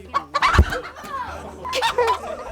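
Hens cluck close by while fresh eggs are gathered from their nests, a few short, throaty clucks rising and falling over about two seconds.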